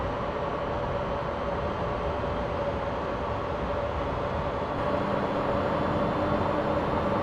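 A BR103 electric locomotive from the video game Train Simulator 2015 runs steadily, heard from the passenger view as an even rolling hiss and rumble with a faint constant tone, growing slightly louder toward the end.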